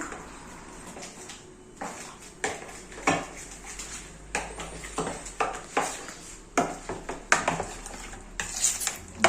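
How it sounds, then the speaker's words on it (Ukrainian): Minced meat being mixed by hand with dried garlic, pepper and salt in a bowl, heard as repeated soft stirring and squelching strokes with occasional clinks of utensils against the dish, close and fairly quiet, with no talking. "перець і сіль за смаком. Все це гарно перемішую."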